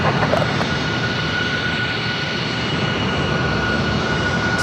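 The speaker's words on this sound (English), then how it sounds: "They got this E-Jet that's going to be heading back to the gates" An Embraer E-Jet airliner taxiing at San Diego airport, a steady broad engine roar with a thin whine on top, continuous and moderately close, with no voices.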